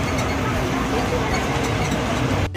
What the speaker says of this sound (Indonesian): Tetapi ini ditarik oleh traktor.